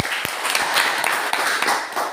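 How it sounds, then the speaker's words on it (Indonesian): Classroom applause from students at a junior high school in Indonesia, a steady patter of many hands clapping together throughout, moderately loud, with no talk over it. "Ya, kita tepuk tangan dulu."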